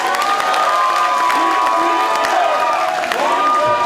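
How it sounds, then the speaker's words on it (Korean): Party delegates and members at a Democratic Party provincial convention in South Chungcheong cheer loudly, with whoops and shouting from a large crowd filling a hall at a steady, dense level throughout. "대의원 당원 여러분, 우리 당대표 후보 여러분께 뜨거운 성원의 박수를 부탁드립니다."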